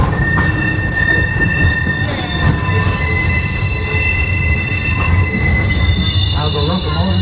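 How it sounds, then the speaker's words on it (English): The Edison, a 1932 steam locomotive built on a Manchester design, pulls a train along the Greenfield Village railroad with a steady rumble of rolling wheels, high squealing flanges and scattered clicks throughout. "The locomotive pulling our grain today is called the Edison."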